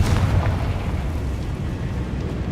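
Confringo blasting spell from the Hogwarts Legacy video game detonating, a loud booming explosion with a heavy low rumble that holds steadily for a couple of seconds without fading away.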